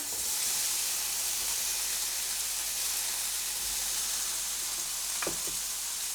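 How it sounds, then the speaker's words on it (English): Tomatoes frying in a frying pan, a steady close sizzle and crackle of hot oil filling the whole stretch, with one small clink near the end. "add some tomatoes in the frying pan here"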